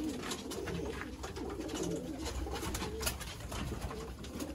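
Teddy pigeons coo softly and steadily at a loft in Sialkot, with several birds murmuring together at close range.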